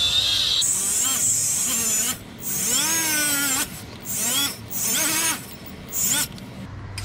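A wire brush scours the rear brake hub surface of a 2019 Mercedes-Benz Sprinter van in bursts of harsh, buzzing scraping. The bursts are broken by short pauses and heard close up, with no talk over them.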